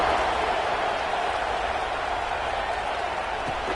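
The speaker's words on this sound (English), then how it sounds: "this crowd is buzzing after that last score" A stadium crowd at a football game buzzes after a score, a dense, even roar of many voices that stays steady and fairly distant throughout.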